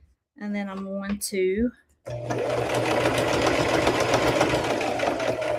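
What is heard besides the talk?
sewing machine stitching fabric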